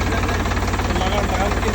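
A second-hand tractor engine runs steadily at close range, a loud, even chugging idle with rhythmic low knocking pulses throughout.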